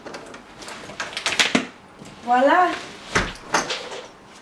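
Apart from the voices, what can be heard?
door being unlocked and opened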